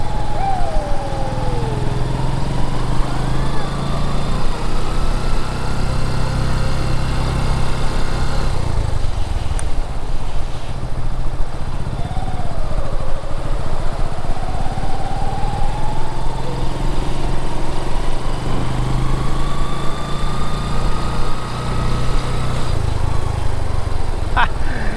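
Motorcycle ridden over beach sand at Labnig Beach, Camarines Norte, a loud, close engine drone that rises and falls in pitch as the throttle changes, continuous for the whole stretch, with voices occasionally heard over it.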